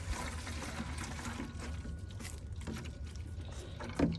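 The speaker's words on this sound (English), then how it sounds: "I'm going to go ahead and dump this in here" Sour milk poured from a container into another container for mixing with water to feed microbes, a faint trickling, gurgling pour with a brief louder splash near the end.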